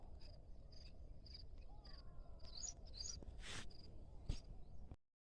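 Sparrows chirp in a millet field in the morning, with short repeated high chirps and calls over a steady insect buzz, faint and outdoors, ending abruptly.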